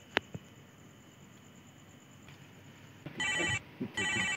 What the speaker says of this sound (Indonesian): Telepon si Nur aja dah.